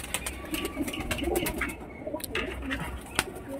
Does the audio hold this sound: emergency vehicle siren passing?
no